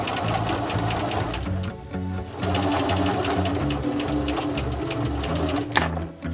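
A sewing machine stitches a denim jeans hem in a fast, steady whirring run of needle strokes that pauses briefly near the middle, close and clear with no talking.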